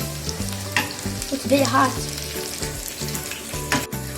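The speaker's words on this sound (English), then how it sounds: "I just put the garlic in and now it's frying in my lovely heart-shaped pan." Garlic sizzles steadily in hot oil in a heart-shaped frying pan, with a spoon scraping and stirring in irregular strokes close by, and a brief spoken remark over the frying.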